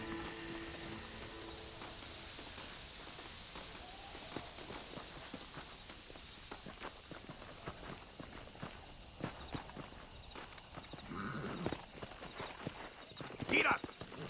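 Horse hooves clip-clop at a walking pace in Red Dead Redemption, a steady patter under game music and an ambient bed, with voices talking over it and a louder burst near the end.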